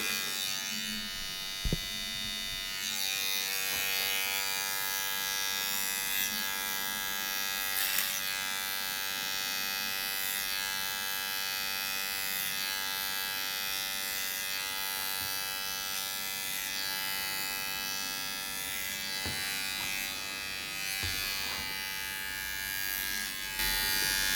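Electric hair clippers cut hair using the clipper-over-comb method during a fade, a steady close buzzing hum running continuously throughout, with faint comb and handling clicks.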